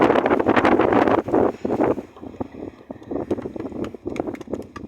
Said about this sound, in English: Now I'm surrendering to the wind. I hope you can still hear me.